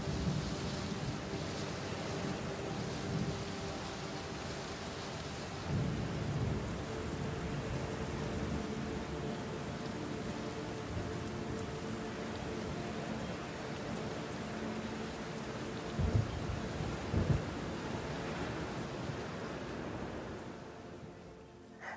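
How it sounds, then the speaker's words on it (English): A thunderstorm with steady, heavy rain hissing throughout, broken by a few low rumbles of thunder, with no voices. "May the direction of these storms change."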